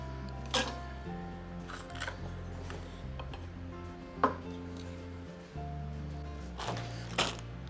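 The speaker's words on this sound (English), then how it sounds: "So we got our peppers all cut up" A knife cuts bell peppers on a board in a few scattered, sharp close taps over a low steady hum, with no talking.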